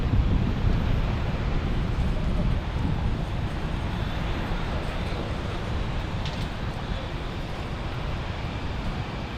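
Allegiant Airbus A320 airliner preparing to depart at Fort Lauderdale airport, a steady broad engine roar with heavy low rumble and wind buffeting, continuous and fairly loud throughout with no voices.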